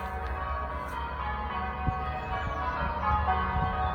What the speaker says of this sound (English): Oh, those bells are just beautiful,